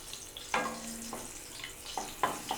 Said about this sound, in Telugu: ఎండుమిర్చి కొంచెం ఫ్రై అవ్వనివ్వండి.